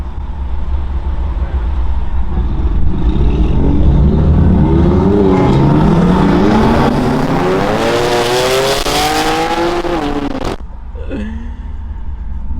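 Loud BMW engines, including M3s, roar and rev close by at a large car meet, rising in pitch as they accelerate, with tire squeal mixed in, then cutting off abruptly near the end.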